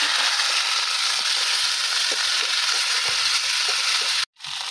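Ground spice pastes of cumin, garlic, chilli and onion sizzle steadily in hot oil, a dense continuous frying hiss with small crackles, until it cuts out abruptly near the end and then resumes.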